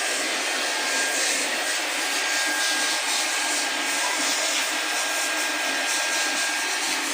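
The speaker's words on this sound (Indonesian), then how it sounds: "Jadi kita mengadakan pengelasan di bagian jalur air masuk" Welding on the water inlet pipe of a filtration unit, a steady loud hiss and crackle that runs unbroken from start to finish with no voices.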